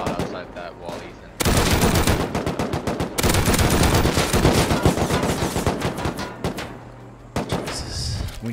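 Rapid automatic gunfire in Rust, sustained bursts hammering into a compound, loud and dense with brief pauses between volleys and voices underneath.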